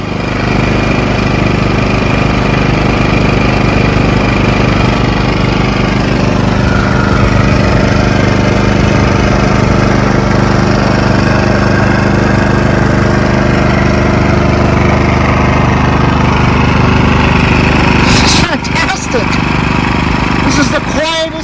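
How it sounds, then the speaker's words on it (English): A lawn mower drones continuously and loudly nearby, a steady engine hum with a few clattering bumps toward the end. "My neighbor's mowing his lawn, so it's making a little bit of noise."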